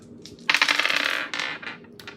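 Dice rolled onto a hard surface, giving a fast burst of rattling clicks that tumbles for about a second and then fades into a few scattered taps, loud and close with no talk.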